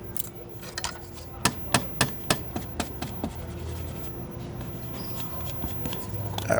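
Scissors snipping embroidery threads on a stopped machine, a run of sharp crisp clicks in a quick uneven series, close by over a low steady hum, ending with a faint shuffle.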